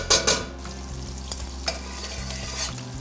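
Butter melting into a thin layer of oil in a hot, heavy-bottomed pan gives a steady close sizzle, with a few sharp spatters and clinks at the start, no voices.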